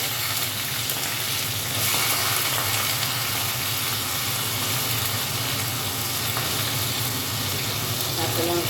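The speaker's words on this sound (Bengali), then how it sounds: "একটু কালো জিরে দিয়ে দিলাম। আর এখানে দেখো চিংড়ি মাছ দিয়ে দিচ্ছি।" Prawns go into hot oil seasoned with nigella seeds for a coconut prawn dish, setting off a loud, steady, close sizzle that swells slightly after the first couple of seconds and continues without pause.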